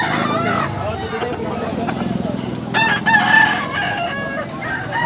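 A rooster crows loudly nearby amid outdoor crowd chatter and background noise at a rooster market in Tabunok, Cebu, with people talking throughout.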